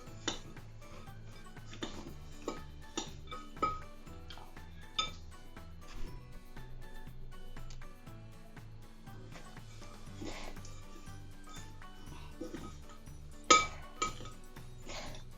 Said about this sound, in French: les épices avec la pincée de sel et les amandes. On mélange tout.